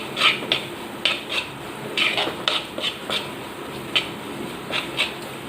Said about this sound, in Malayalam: ഈ മുളക് പൊടി നന്നായിട്ട് പച്ചമണം പോകുന്നവരെ നമുക്കൊന്ന് ഇളക്കി കൊടുക്കാം.